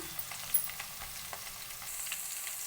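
Onions and chillies sizzle steadily in a pan of oil for a chicken curry, making a continuous close crackle dotted with small pops, with no talking.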